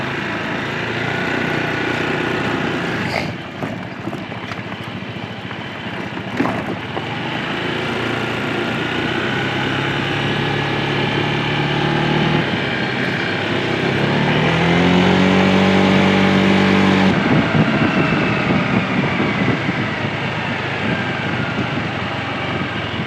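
Motorbike engine droning steadily while riding toward a national park near Mae Sariang, Thailand, a close continuous hum with wind noise, pitch rising and falling through gear changes, and no talk.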